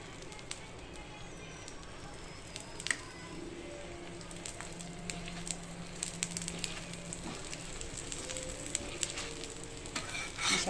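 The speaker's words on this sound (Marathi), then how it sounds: "हे जे होल आहेत त्याच्यामध्ये आपल्याला तेल टाकायचंय." Oil is drizzled into the holes of a thalipeeth frying on a pan, giving a steady, close sizzle and faint crackle that runs unbroken throughout.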